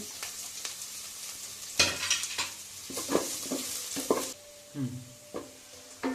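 Chopped onion, garlic and dried chillies fry in a rice cooker, sizzling steadily under repeated stirring, with spatula scrapes and knocks against the pot.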